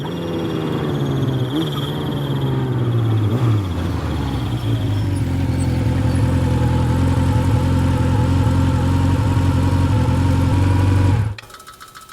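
A vehicle engine with a loose exhaust pipe rumbles steadily and loudly up close, its low idle note shifting in pitch around the midpoint before cutting off abruptly near the end.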